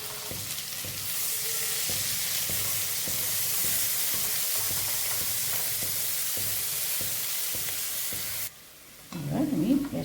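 Half an onion fries with garlic in a pan, making a loud, steady hiss and sizzle with faint stirring clicks. It cuts out briefly near the end, followed by a clatter.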